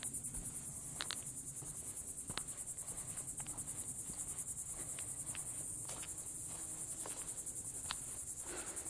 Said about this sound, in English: All I hear are cicadas.